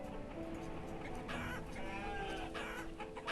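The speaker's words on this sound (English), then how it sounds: "Oh my god, these chickens!" A flock of chickens in the village-building game Banished clucks and squawks continuously over a dense farmyard ambience, loud and busy, with a few sharper calls rising out of the mix.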